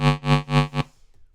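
A Serum synth patch built from a vocal sample and run through a reverb filter plays four pulsing, buzzy harmonic swells in a steady rhythm, then cuts off into a brief, quiet filtered tail.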